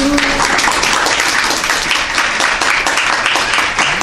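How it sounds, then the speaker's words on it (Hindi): An audience claps continuously at a Jain temple gathering, a dense, even wash of applause that is loud and sustained throughout. "वहाँ आदिनाथ भगवान की सभा में भी सब लोग ऐसे ताली बजा रहे हैं"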